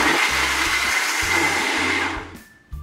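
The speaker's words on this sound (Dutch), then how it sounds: "Alles lekker met de blender." A blender making a smoothie roars loudly and steadily for about two seconds, then winds down and stops, followed by a brief clatter.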